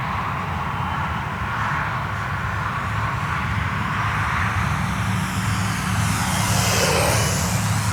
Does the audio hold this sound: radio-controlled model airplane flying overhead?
yes